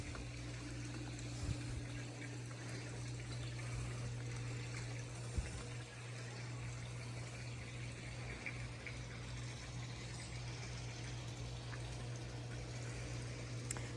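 Heated pool and spa water at a luxury home with a water view, running as a steady, low trickle and pump hum that holds evenly throughout, with no talk over it.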